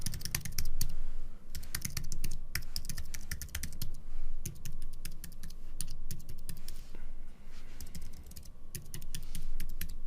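Rapid, continuous typing on a computer keyboard, with dense clattering keystrokes close by for the whole stretch and no voices.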